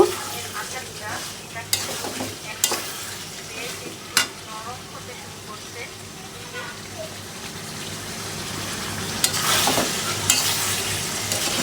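Large potato chunks stir-fried with mutton in a pan for a thin goat curry, a steady low sizzle under scattered scraping strokes and a few sharp clinks, close up, with a voice talking over it.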